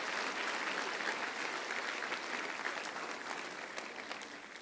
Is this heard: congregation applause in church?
yes